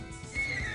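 A horse neighing in a French-dubbed anime scene, a short whinny under a faint background bed.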